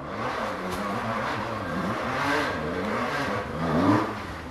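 Husqvarna enduro motorcycle engine revving as it approaches at an enduro event near Brescia, a wavering mid-pitched whine rising and falling, swelling louder toward the end.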